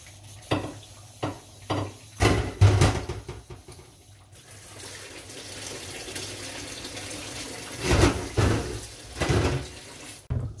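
A tap runs into a sink while raw cow skin is washed, with splashing bursts, clunks of handling, and a steadier stream of water in the middle stretch.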